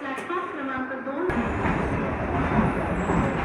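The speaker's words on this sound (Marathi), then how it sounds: "ट्रेन एक्झॅक्ट टायमिंगला सुटलेली आहे 11:30ला." A MEMU commuter train runs between Diva and Vasai, its onboard rumble rising abruptly to a steady rolling roar after a brief quieter stretch with a voice.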